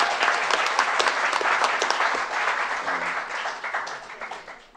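Audience applause at a Bareun Party leadership candidate debate in 2017, dense steady clapping from a crowd that fades toward the end, with little talk.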